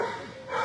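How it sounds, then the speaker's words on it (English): A black dog gives a short pair of yips or barks close by, brief and moderately loud with no talk over it. "he's barking at me"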